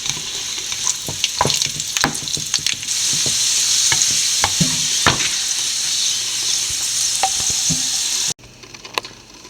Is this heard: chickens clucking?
no